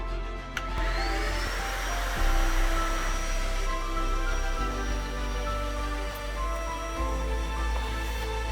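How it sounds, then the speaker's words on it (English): A vacuum cleaner drones loudly and steadily, its motor pitch rising as it spins up, then holding a constant whine with low rumble underneath. "My vacuum cleaner, pity of that tool"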